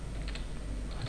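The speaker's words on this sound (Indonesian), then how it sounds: "Berarti kita ketik dulu aja biar nggak lupa." Soft, rapid keystrokes on a computer keyboard while an IP address is typed into a cloud server setup, faint clicks over a steady background hum, no talk.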